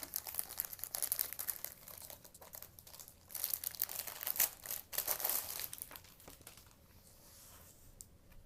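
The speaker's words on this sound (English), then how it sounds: "Let's take that out of the plastic." A Fintie iPad keyboard case is pulled from crinkly plastic wrapping, producing close, irregular crumpling and rustling bursts that thin out toward the end.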